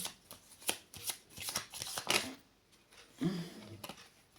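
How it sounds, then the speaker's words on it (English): Tarot cards shuffled by hand in a rapid riffling run of crisp flicks and taps, close and fairly quiet, followed by a few softer shuffles and a brief pause with no talk. "Okay, I still want to shuffle."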